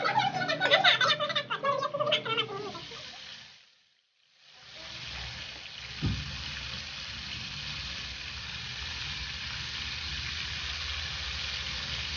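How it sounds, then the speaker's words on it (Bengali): Taro pieces browning in hot oil in a frying pan, a steady sizzle filling the clip after a busier crackling start, with a brief dip near silence early on and one sharp clink. "গরম তেলে কচুগুলাকে বাদামি করে ভেজে নিচ্ছে"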